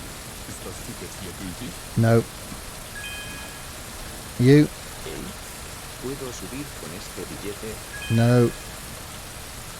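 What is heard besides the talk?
rain in a video game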